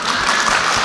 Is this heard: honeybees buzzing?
no